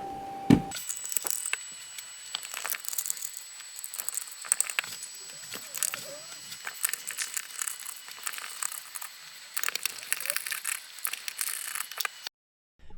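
Small screws being backed out of a Rock Candy Nintendo Switch controller's plastic shell, with faint ticking and scraping of a screwdriver and light clicks of parts, close and quiet throughout with no talking.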